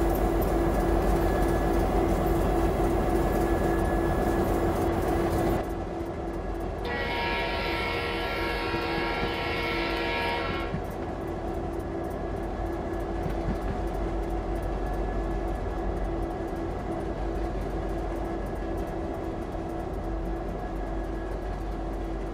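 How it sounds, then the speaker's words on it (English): A CSX SD80MAC freight locomotive in the Train Simulator 2015 game, running on a Norfolk Southern coal district route, rumbles steadily throughout, with a sustained horn blast sounding partway through; no one speaks. "What a train, eh? What a train."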